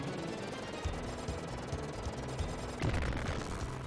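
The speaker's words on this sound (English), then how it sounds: "That was a crispy explosion sound effect." Crunchy retro explosion effect from an SNES game on the SNES Classic Mini, a dense rattling blast of noise that swells into a sharper burst near the end, loud and with no talk.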